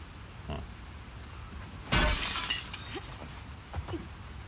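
Glass shatters in The Last of Us Part 2, one loud bright crash with tinkling debris that trails off over a quiet ambient background, followed by a few faint clinks.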